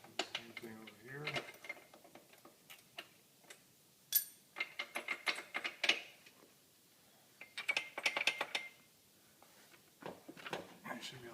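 A ratchet works loose the bolts on a Stryker front pulley, giving irregular bursts of sharp clicking and metallic ticking spread through the clip, with brief speech near the start.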